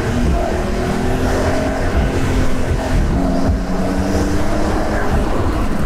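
Porsche 911 Carrera S Cabriolet with 8-speed PDK driven top-down on a country road, its engine revving high in a loud, sustained roar with rising and falling pitch, heard close and without talk.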